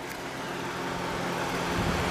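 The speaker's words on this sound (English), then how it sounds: "And just hear that V6." A 2007 Lexus RX350 with its V6 engine idling, a steady low hum and rumble heard close by, alone and without talking.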